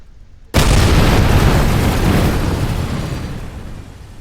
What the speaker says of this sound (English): which makes a nice little explosion when those fuel tanks hit the ground